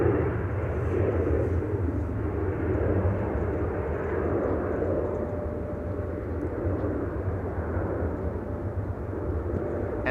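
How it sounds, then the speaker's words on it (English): A KLM Embraer 175 takes off from Amsterdam Schiphol bound for Genoa, its engines giving a strong, sustained roar with a thin whine running through it, steady across ten seconds and free of speech. "the Embraer 175 to Genoa is taking off here"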